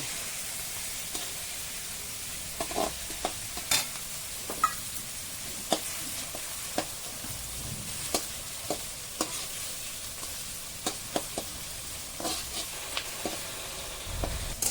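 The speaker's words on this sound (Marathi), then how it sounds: "हे बघा आता याच्यामध्ये कढीपत्ता टाकतो" Curry leaves dropped into hot oil set off a continuous sizzling hiss, with scattered crackles and pops and occasional stirring clicks over nearly fifteen seconds, no voices.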